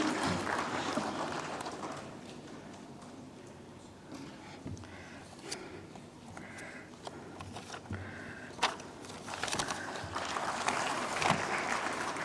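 An audience at an international arbitration event claps in a steady, sustained round of applause that swells slightly toward the end, filling the hall without any speech.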